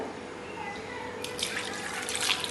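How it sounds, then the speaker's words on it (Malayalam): Water poured into a pot, beginning after a moment of quiet hum and building into a close splashing gush with a few bright drips. "കുറച്ചും കൂടെ വെള്ളം കൊടുക്കും"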